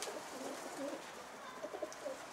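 Pigeons coo softly at a coop, giving faint, low, intermittent calls against a quiet outdoor background.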